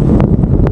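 Cold midday wind buffets the microphone of a bicycle ride to work, a steady low roaring rush with a few brief gusty swells and no voices.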